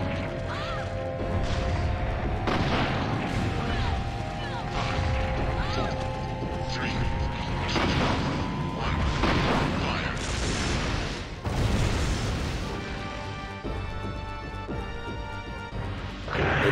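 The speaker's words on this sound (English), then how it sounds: "I'm gonna pelt you with rockets" Rockets explode against an enemy in Resident Evil 3: Nemesis, a string of loud booming crashes and metallic impacts over a dense game soundtrack with a rising whine.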